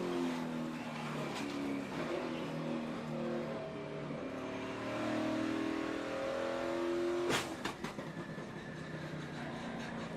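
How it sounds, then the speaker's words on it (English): A NASCAR race car at the Daytona Sprint Unlimited comes off a crash with its engine revving up through rising tones, followed near the end by a sharp burst of engine noise and crackle. "listen to the motor. Listen to the motor accelerate."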